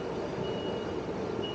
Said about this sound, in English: So when all the trucks come, delivering all their supplies.